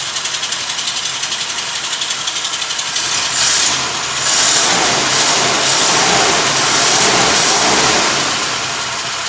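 A car engine revs hard after a carburetor repair. It is loud and close, starting from a rough, knocking run and surging into higher, sustained revs after about three seconds, with no talking.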